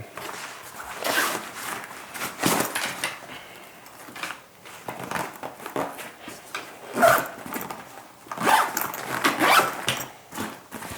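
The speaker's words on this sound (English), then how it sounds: "and then you zip it up" A zipper is pulled along a fabric car organizer box in several bursts, close up, some faster and some slower, with brief pauses and light handling noises between.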